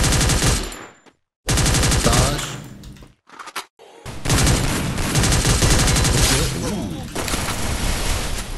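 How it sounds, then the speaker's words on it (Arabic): Weapon fire from a video game in training mode: a long, dense rattle of rapid automatic shots, loud and close, broken by a couple of short pauses and a few isolated bursts. "اوكي راح نجرب سلاح مع الليم هنا بالتدريب"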